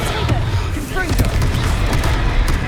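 Fiery Confringo spell blasts in Hogwarts Legacy combat erupt as loud, dense booming bursts over continuous battle noise, with a low rumbling bed throughout.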